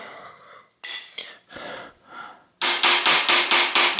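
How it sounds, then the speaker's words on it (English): A pin is tapped into a vintage Italian bicycle bottom bracket, first with a few scattered scrapes and knocks, then a run of about eight quick, loud, evenly spaced metallic taps. "Tap the pin in there like this"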